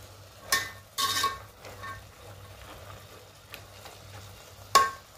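Potatoes and eggplant sautéing in a pan for a Bangladeshi dried-fish, bean and vegetable curry, with a few loud stirring scrapes over a low, steady sizzle, all close by and without talk.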